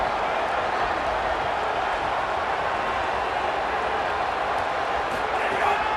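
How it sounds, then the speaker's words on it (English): A large crowd roars steadily in a broad, continuous wash of noise with no breaks, like a packed stadium, in the college football video game EA Sports College Football 27. "The crowd electric, trying to help Tech on this 3rd down."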